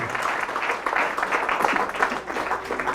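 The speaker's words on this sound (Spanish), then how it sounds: "Fuertes aplausos al Rey de Reyes, al Señor de Señores" Church congregation applauding Jesus during a Catholic service, steady moderate clapping from a crowd heard throughout.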